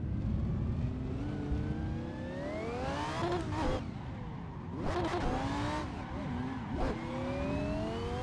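A Lamborghini drift car on semi-slick tires revs hard and accelerates in third gear, its engine note climbing steadily with brief dips at shifts and traction breaks, loud and close throughout.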